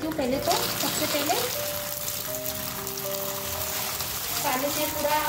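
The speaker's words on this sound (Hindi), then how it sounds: "पानी से पूरा टब भर देती हूँ" Water gushing steadily into a tub of vegetables being washed, a continuous splashing rush heard up close, with a voice speaking briefly over it.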